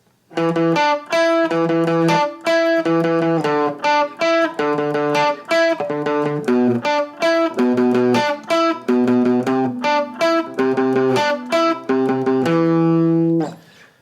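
Electric guitar playing a riff with added filler notes, a steady syncopated run of clipped, muted-and-ringing chord stabs, continuous and up close with no talking.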